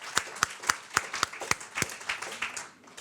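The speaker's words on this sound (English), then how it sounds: "Let's give her a round of applause." Sparse, distinct handclaps at an Australian leadership awards event as a winner is announced, a small number of hands clapping in an uneven rhythm that gradually blurs and fades.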